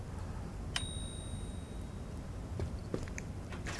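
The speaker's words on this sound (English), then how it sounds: "So if you just ring the bell," A single bright bell ring in the game A Week In The Life Of Asocial Giraffe sounds once with a clear, sustained ringing tone, fairly quiet, followed by a few soft taps and shuffles.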